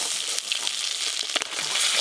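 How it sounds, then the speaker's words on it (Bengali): A spatula chops fried hilsa roe in a wok over steady loud sizzling oil, with short scraping and cutting knocks against the pan, close and without talking. "ইলিশ মাছের ডিম তো হালকা করে ভেজে নিয়েছি, এবার খুন্তি দিয়ে কড়াতেই পিস পিস করে কেটে নেব"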